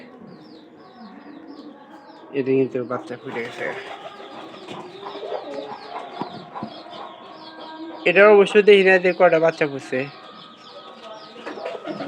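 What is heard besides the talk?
pigeons cooing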